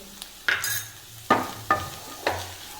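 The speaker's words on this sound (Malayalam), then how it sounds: "ഈ പൊടികളുടെ ചേവ മാറണം അതിനായിട്ട് നന്നായിട്ട് വഴറ്റണം" Coriander powder, garam masala and chilli powder being sautéed in a pan, a low background sizzle broken by four sharp spoon scrapes and clanks against the pan, no talking.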